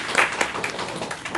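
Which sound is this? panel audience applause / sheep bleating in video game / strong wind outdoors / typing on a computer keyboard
panel audience applause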